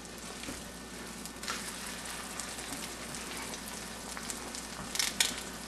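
Eggs frying in a cast iron pan give a steady, moderate crackling sizzle that runs throughout, with a few brighter spatters near the end.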